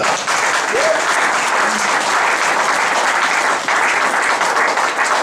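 A church congregation at a faith seminar breaks into loud, sustained applause that fills the room steadily from start to finish, with no clear voice standing out above it.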